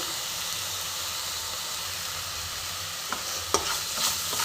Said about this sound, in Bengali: এবার মশলাটা একটু ভাজা ভাজা করে নেবো।